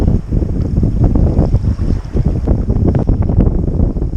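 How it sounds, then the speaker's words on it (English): Strong wind roars across an open lake in the Yukon while a boat is paddled, buffeting the microphone with loud, continuous, gusty rumble and faint water splashes underneath. "I'm just letting the wind take me at this point."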